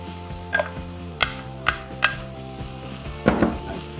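Cauliflower added to soft vegetables sizzling in a pan for cauliflower fried rice, a steady close sizzle punctuated by several sharp utensil clinks and scrapes against the pan, with no voices.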